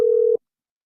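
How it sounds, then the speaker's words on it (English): A single steady telephone tone, like a ringback or busy beep, sounds loud and close for about a third of a second and then cuts off into silence, with no talk. "Gotta make a phone call."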